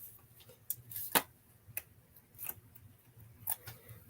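Adhesive backing is peeled off small pieces of a Christmas craft kit, giving several short, crisp crackling rips spaced irregularly. The sound is close and fairly quiet, with no voices.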